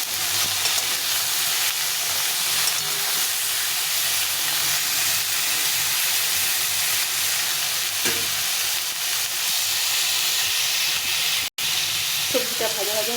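Chopped vegetables with salt and turmeric frying in a pan for a pumpkin and Malabar spinach chochchori, giving a continuous loud sizzle and hiss with a brief clatter near the end.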